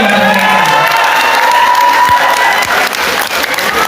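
Primary school pupils clap and cheer together at an elementary school quiz competition: dense, loud, steady applause from a crowded room, lasting throughout and tapering slightly at the end.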